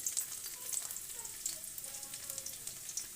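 Chopped garlic sizzling in the hot oil left after frying onions, a steady crackling fry with scattered sharp pops, close and moderately loud.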